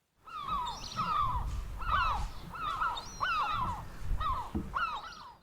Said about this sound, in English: It's the sound of a seagull.